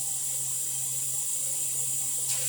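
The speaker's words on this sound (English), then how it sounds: "let's add some water. And it could be the water from the sink because it's going to boil" Cold water runs from a kitchen sink tap into a pot, a steady close hiss of flowing water lasting throughout without a break.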